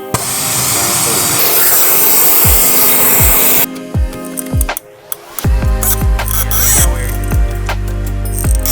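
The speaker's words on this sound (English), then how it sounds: "Now that we got some heat on it, a little bit of work with the torch" A torch heating an exhaust header stud on a Honda Accord roars with a loud steady hiss that cuts out abruptly, followed by clicks, metallic taps and a low hum nearby.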